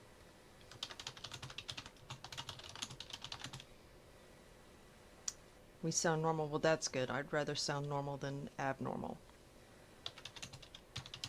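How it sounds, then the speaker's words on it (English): Rapid keystrokes on a computer keyboard clatter in steady bursts, pausing while someone talks, then resuming under and after his speech at moderate, close level. "Can you hear me pounding away on my keyboard as much today?"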